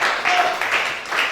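Congregation clapping at a night prayer vigil, several short bursts of applause from a crowd, mid-distance, with a voice speaking over them.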